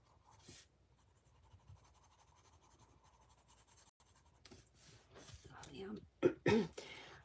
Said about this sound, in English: Start building up the colored pencil, not only on the alcohol marker, but on other colored pencil as well.